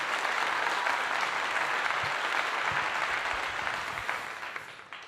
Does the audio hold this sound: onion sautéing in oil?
no